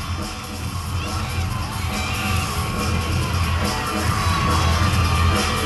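A packed arena crowd at the 2007 NCAA gymnastics Super Six roars and yells steadily during a UCLA beam routine, a dense, loud wash of cheering and whoops that never lets up.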